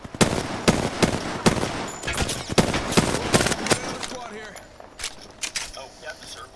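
Rapid bursts of automatic gunfire from the Apex Legends video game, loud sharp volleys in quick succession over about four seconds, then scattered single shots, with players talking over the action.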